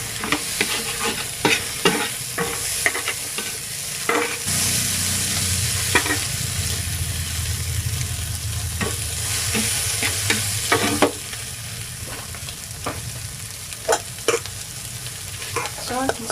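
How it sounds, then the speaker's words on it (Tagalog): Fried rice with sweet corn being stir-fried in a pan, a continuous sizzle punctuated by repeated sharp scrapes and clanks of a spatula against the pan, close and loud, with a louder hissing surge partway through. "Very quick lang po yung ating pagluluto ng fried rice na pang-agahan."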